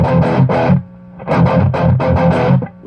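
A distorted electric guitar through a Peavey 6505 MH head on its gain channel with the reverb switched off, loud, dry and saturated, in chugged bursts and short chord hits with a brief pause.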